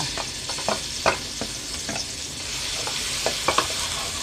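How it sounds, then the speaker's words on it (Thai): Garlic sizzles in a hot pan of oil for Thai basil stir-fry with crispy pork, a steady broadband hiss broken by sharp crackles and pops scattered throughout. "กระทะร้อนน้ำมันร้อนกระเทียมลงค่ะ"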